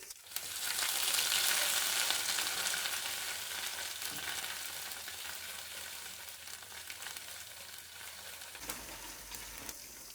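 Garlic and ginger paste fries in hot ghee with a loud, steady sizzle that swells quickly and then eases slightly, with occasional stirring scrapes and no talking.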